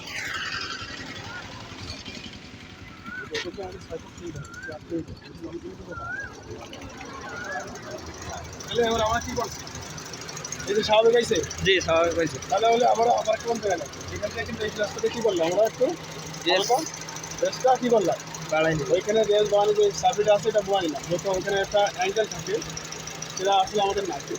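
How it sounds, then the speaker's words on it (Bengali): A car engine runs steadily throughout at a driving school, a low rumbling hum with people talking over it about the engine sound and occasional metallic taps. "ইঞ্জিনের সাউন্ড কি আবার আগের মতো জায়গায় চলে যাবে"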